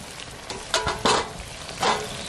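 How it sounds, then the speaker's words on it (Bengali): Chicken being stirred in a cooking pot for an egg chicken dish, with soft sizzling and a few louder scraping strokes spaced irregularly, close by and with no talking. "চিকেনটা ফার্স্ট ক্লাস করে এদিক ওদিক করে নেড়ে দেবো"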